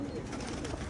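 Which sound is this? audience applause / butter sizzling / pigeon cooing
pigeon cooing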